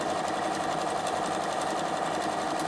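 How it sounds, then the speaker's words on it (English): A Bernina sewing machine runs steadily, stitching down uneven rows on fabric with a continuous close, even whir that holds throughout and has no voices over it. "So just sew down"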